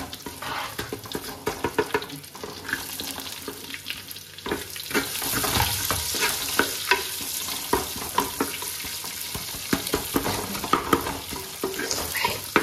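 Onions frying with salt in a pan for Mangalore-style maruwai sukka, a steady sizzle broken by repeated scraping and clinking strokes of a spoon stirring, close and continuous.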